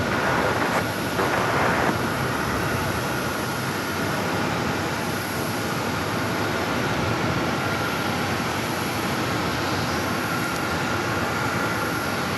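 Southwest airliner passing at Phoenix Sky Harbor airport, a steady broadband roar of jet engines holding at a constant level throughout, fairly loud and with no talking.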